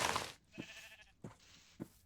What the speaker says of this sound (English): One of those white sheep.